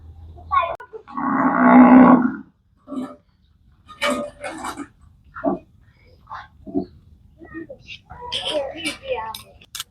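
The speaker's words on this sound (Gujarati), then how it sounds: "બે ભાંભરે છે કારણ કે એની વાસળીઓ અહીંયા છે" A cow in a cattle shed lets out a loud, long moo near the start, calling for its calves, followed by talking and scattered farmyard noises.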